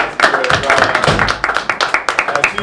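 An audience at a live podcasters' meetup in Cleveland claps together, with dense, steady applause close by and a voice speaking over it.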